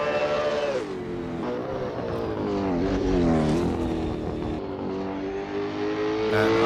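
V8 race cars in a sim racing game cruising on a cooldown lap, steady layered engine drones rising and falling in pitch, loud and continuous with no talk.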